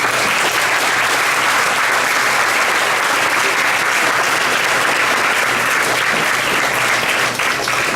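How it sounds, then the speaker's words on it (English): An audience gives a round of applause at a fireside chat, dense loud clapping that runs steadily throughout with no break. "can we get a round of applause first?"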